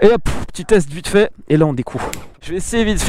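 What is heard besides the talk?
No everyday noise stands out behind the speech.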